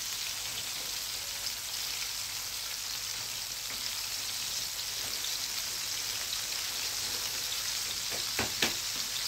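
Mullet fish frying in hot oil, giving a steady, dense sizzle with fine crackling throughout and a couple of brief pops near the end, fairly faint and with no talk.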